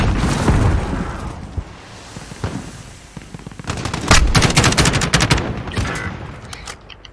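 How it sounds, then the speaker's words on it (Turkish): Bursts of gunfire and a booming grenade blast in a Call of Duty: Modern Warfare (2019) Special Ops match, sharp repeated cracks clustering toward the end over a dense, loud battle backdrop. "Oha el bombası."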